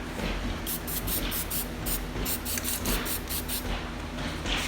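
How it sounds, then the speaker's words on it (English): A spray paint can hisses in a series of short bursts, close by, painting auto body work, over a steady low mechanical hum. "I'm gonna spray some paint on it"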